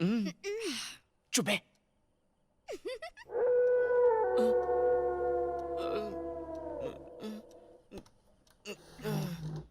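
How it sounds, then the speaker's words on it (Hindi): A dog howls in long, wavering, siren-like tones that hold steady for several seconds, with brief voices speaking before and after the drawn-out howl. "भैया कुत्ता भौंक रहा है।"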